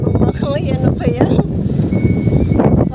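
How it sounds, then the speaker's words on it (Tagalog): Strong wind buffets the microphone outdoors in steady low roaring gusts, with people talking excitedly over it throughout. "Ang lakas ng hangin."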